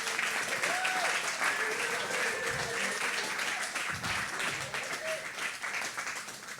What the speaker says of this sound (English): if you'd all give me a round of applause for Mr. Rich Rice.